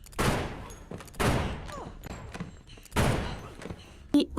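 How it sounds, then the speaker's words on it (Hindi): Gunfire in a fight scene from the 2007 film The Invasion, in several loud, sharp bursts with short gaps between them, followed by a quieter sharp crack near the end. "उन पर गोलियां चलाकर सभी को मार डालती है"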